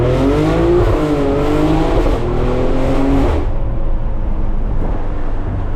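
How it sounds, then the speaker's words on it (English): Tuned, catless Can-Am X3M off-road vehicle engine revving hard and shifting up through the gears, loud and close with rising harmonic sweeps, then dropping to a lower rumble as the throttle closes. "probably put it into first and just pop it through the gears a little bit"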